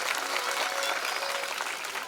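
A large crowd at a Shiv Mahapuran katha religious gathering claps hard in a dense, steady wall of applause that holds strong and loud throughout.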